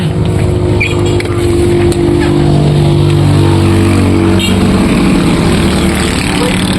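A motorcycle engine drones loudly and close on a rural road, its steady hum swelling slightly as it passes, with voices talking over it.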